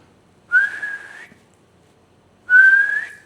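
A person whistles in two long, high, steady tones separated by a pause, imitating the sumbi breath sound a haenyeo diver makes on surfacing, loud and clear in a quiet room.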